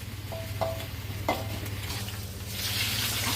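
Fish and chicken frying in oil at an Indonesian food stall, a steady sizzle with a few clinks of utensils and the hiss swelling toward the end.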